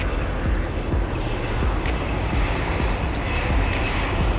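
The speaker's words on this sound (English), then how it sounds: "Planes everywhere." A constant roar of aircraft engines fills the air, a broad steady rumble with a faint rhythmic ticking on top, no speech.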